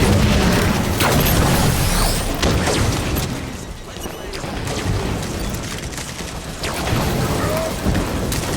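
In the video game Halo 5, a grenade goes off with a loud rumbling boom that swells and fades, followed by further explosive rumbles and gunfire-like crackle in a dense, noisy battle mix.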